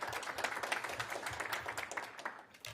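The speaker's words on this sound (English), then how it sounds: "give yourselves a round of applause for that" Dense, continuous applause from an audience at the Marion Barry Summer Youth Employment Program kickoff, many hands clapping at once, steady and moderately loud before tapering slightly at the end.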